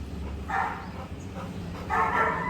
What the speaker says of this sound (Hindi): अरे अरे ऐसे क्या भौंक दिया तूने?